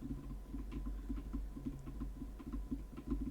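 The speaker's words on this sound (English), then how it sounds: "I'm now using the NVIDIA broadcast noise removal to see if that's any better at removing the taps. I'm tapping." A finger taps near a Fifine AM8 microphone with NVIDIA Broadcast noise removal on. The taps come as soft, muffled and faint bursts in a quick, uneven patter over a low hum, with no speech.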